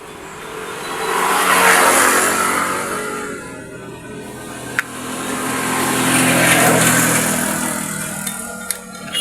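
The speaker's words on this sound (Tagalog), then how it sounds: "Engine." A Bajaj 100 motorcycle engine runs loud and close during clutch lining work, its rough steady drone swelling and easing twice with a couple of sharp metallic ticks and no talking.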